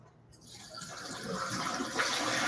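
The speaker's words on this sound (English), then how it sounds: "I just rinsed off my mushrooms" Tap water running into a sink while mushrooms are rinsed, a rushing gush that swells quickly from quiet and holds steady and close for a couple of seconds.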